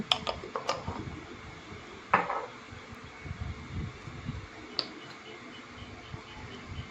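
Seasonings being stirred into white crickets in a pan, with light scraping and clinks of a spoon against the pan, one sharper knock near the start and scattered soft rustling, no talking.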